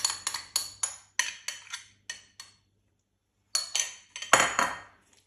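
Metal utensil repeatedly clinking against a bowl while chicken is mixed with ginger garlic paste, sharp close taps in quick bursts, a pause, then more clatter.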